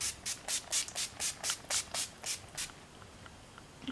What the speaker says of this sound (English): we are quickly going to spray our face with a setting spray, and I use NYX Matte Finish Setting Spray